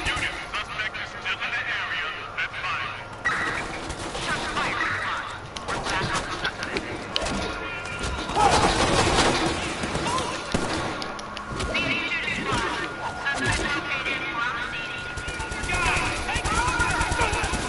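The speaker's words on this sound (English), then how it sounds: "Right now, I'm just using my Geode rifle." Rifle gunfire in the video game Watch Dogs 2, a dense, steady stream of rapid shots running the whole stretch, loudest near the middle, with voices talking over it.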